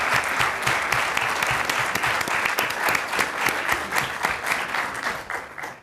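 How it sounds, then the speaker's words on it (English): Steady, dense applause from a city council meeting audience for a Boy Scout troop, heard alone and continuing for several seconds before tapering at the end. "Could y'all stand up and let us give you a round of applause?"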